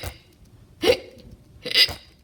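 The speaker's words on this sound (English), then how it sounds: "and had the hiccups." Three sharp, close hiccups spaced about a second apart, each a brief voiced gulp with nothing else between them.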